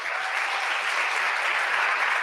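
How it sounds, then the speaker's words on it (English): Steady, dense applause from a forum audience fills the whole stretch, an even wash of clapping with no pauses and no voices over it. "let's give a round of applause for our speaker one more time."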